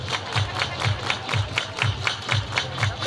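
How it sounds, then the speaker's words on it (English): A baseball crowd at a Long Beach Coast versus Oakland Ballers game claps in a steady, even rhythm of about three claps per second, repeated many times and loud and close, with no talking over it. "Everybody clap your hands."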